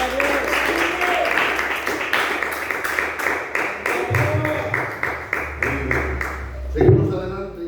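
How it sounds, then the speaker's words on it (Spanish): Church congregation clapping along in a steady, dense rhythm of hand claps that runs through the whole stretch, with voices and music underneath. "Den un aplauso fuerte a Jesús."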